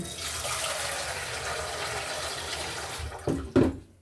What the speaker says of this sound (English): put some water in this saucepan